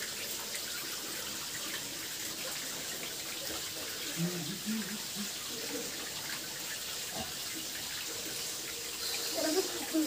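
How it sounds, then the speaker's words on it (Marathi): Natural water from the mountain keeps pouring in a steady rushing stream, loud and constant, with faint voices murmuring briefly over the flow midway and near the end. "त्या डोंगरामधून नॅचरल पाणी येतं आहे"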